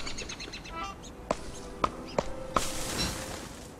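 A few short bird chirps in the Don't Starve video game, sharp separate tweets spaced about half a second apart, fairly faint over a quiet ambient background.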